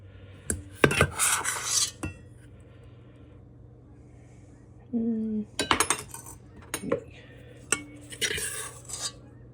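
A measuring cup scrapes and clinks in a bowl of crumb mixture for a macadamia fudge torte, in several short bursts of scraping and tapping separated by quiet pauses, close and clear.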